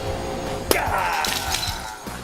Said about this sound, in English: if you just punch like straight through it, it would, you know, break